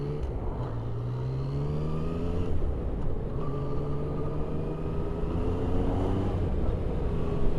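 A Ducati Scrambler motorcycle on a test ride gives a smooth, turbine-like engine whine with rising and falling pitch sweeps over a steady road rumble, moderately loud throughout and free of talk.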